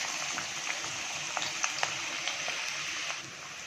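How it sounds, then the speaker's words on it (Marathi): Finely chopped onion frying in hot oil gives a steady, fairly quiet sizzle with faint crackles and a few small pops, with no voices. "आता इथे आपण तेल गरम करून याच्यामध्ये आपण बारीक चिरलेला कांदा घालून घ्यायचा आहे।"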